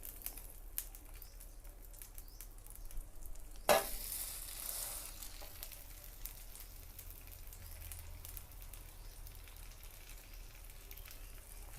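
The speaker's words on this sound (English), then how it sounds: "now we're simply going to carefully put these pieces of French toast on there, nut side down" French toast pieces with nuts set nut side down on a hot griddle, starting with a sudden broadband hiss as they land and settling into a steady, close, moderately loud sizzle that continues for several seconds.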